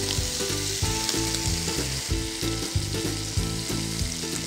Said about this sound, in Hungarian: Újból egy nagyon pici olaj, húsos szalonnák. Egy picit átpirítjuk.